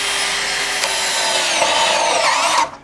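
Mollar CD12300 brushless cordless drill running steadily for nearly three seconds at close range, a loud continuous whine with a brief pitch shift midway before the motor spins down, drilling into light steel channel.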